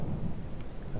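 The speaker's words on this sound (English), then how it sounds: "It's very immersive that you can hear the rain on the roof there and" Steady rain and thunderstorm ambience from Oblivion gives a continuous low rumble with a soft wash of rainfall on a roof, moderately loud with no voices.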